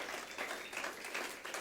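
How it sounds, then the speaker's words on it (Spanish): A church congregation claps for the Lord during a sermon, a faint, brief patter of scattered applause with no voices over it. "Le damos un aplauso fuerte al Señor."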